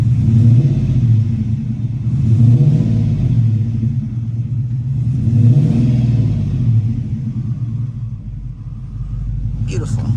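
A car engine with a Flowmaster exhaust, just back from repairs, cold-starts into a deep steady rumble that swells in repeated revs, loud and close, with a brief sharper noise near the end.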